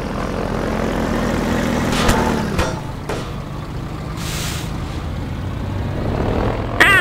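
A helicopter in the sandbox game Garry's Mod flies past amid vehicle chaos, its rotor and engine drone rising and falling over a steady rumble, with a couple of sharp impacts and no talk.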